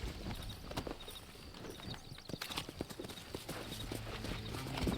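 Horse hooves clip-clop steadily as a rider travels on horseback in the video game Red Dead Redemption, with brisk, rhythmic footfalls at moderate volume and occasional faint game sounds in the background.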